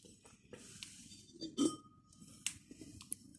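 Lids of handmade clay curry bowls clinking against the bowls, a few sparse light taps and one fuller knock, faint and close in a quiet room.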